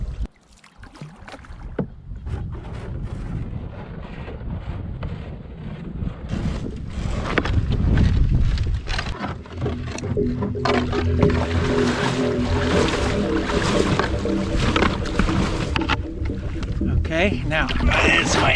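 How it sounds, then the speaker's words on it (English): Paddling a small boat such as a canoe or kayak upstream into the wind, with water sloshing and steady wind buffeting the microphone that grows louder after the opening seconds, while people talk throughout. "Into the wind again. Yeah. And we're going to be paddling upstream."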